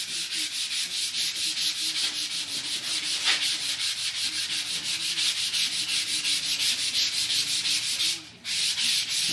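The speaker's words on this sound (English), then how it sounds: "You want to kind of have even pressure on your fingers onto the sandpaper." Hand sanding a Les Paul guitar kit body with sandpaper held under the fingers, a steady run of quick back-and-forth rasping strokes close by, briefly pausing near the end before resuming.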